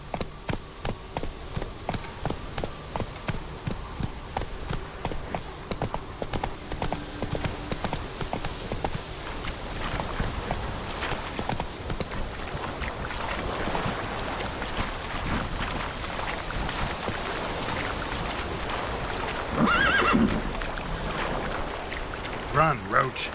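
Roach, the horse in Witcher 3, gallops in a steady rapid clip-clop that runs loud and close throughout, with rain-like patter and game ambience underneath.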